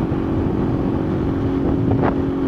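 A Honda Sahara 350 motorcycle being broken in with a new engine, running rich on gasoline with a 160 jet: a steady, loud, droning engine note held close to the mic with wind rush, no voices.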